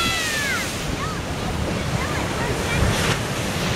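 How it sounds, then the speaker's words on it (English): Big ocean waves crash continuously on the beach in a dense, roaring wash of surf mixed with wind buffeting the microphone, loud and steady throughout. "Go big waves."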